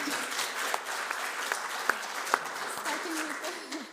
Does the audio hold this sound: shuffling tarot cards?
no